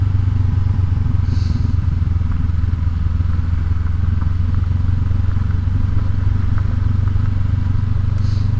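A 2019 Honda CB500X motorcycle rides over really loose gravel. Its engine drones steadily and low the whole way through, with faint crunch and clatter from the tyres mixed in and nobody talking.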